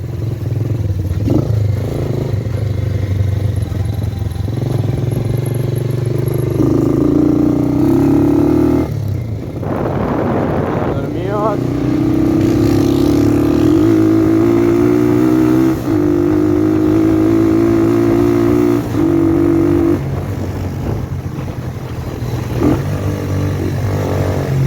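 A Sunny motorcycle engine hums close and loud on a test ride, rising and falling as the rider accelerates and eases off, with wind rush and some clatter throughout and no talking.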